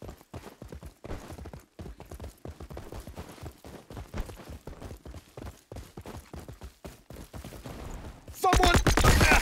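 Weapons fire in Jumanji: The Video Game as a long series of quick, regular shots at moderate volume, ending in a louder, denser burst.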